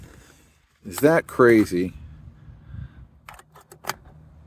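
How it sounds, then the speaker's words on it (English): A cigarette lighter pops out in a 1959 Cadillac Sedan, giving a few sharp, close mechanical clicks just after a short burst of speech. "All four cigarette lighters work. So you hear the one behind me go."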